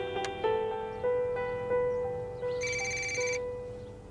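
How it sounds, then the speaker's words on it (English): A phone ringtone plays a repeating electronic melody of bright tones, loud and close, for about four seconds with no talking. "You should answer your phone."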